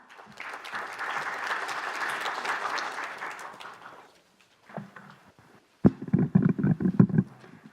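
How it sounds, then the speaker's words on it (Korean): An audience at a development cooperation conference session claps warmly to welcome a speaker, a dense applause lasting about four seconds before dying away, followed by quiet and then a voice talking. "따뜻한 박수로 맞이해 주시기 바랍니다"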